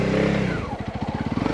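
Motorcycle engine on a roadbook rally course revving loudly and close, a continuous roar that breaks into rapid pulsing firing as the throttle works, with no voices.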